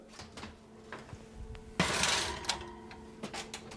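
A baking tray of mille-feuille pastry slides into a 400-degree oven, with a sharp metallic clank followed by a short scraping rattle and a few lighter knocks in a quiet kitchen.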